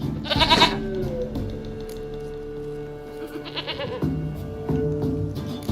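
Goat bleating in The Witcher 3 video game, a loud wavering bleat near the start followed by two shorter bleats later, over a steady ambient game music bed.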